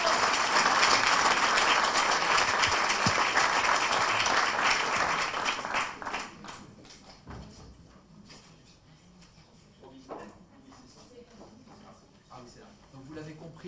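An audience applauds at a conference and cocktail event, a dense, steady clapping that lasts several seconds before thinning out into scattered claps and a speaking voice.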